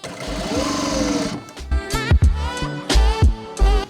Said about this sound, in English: So now we have sewn that sleeve.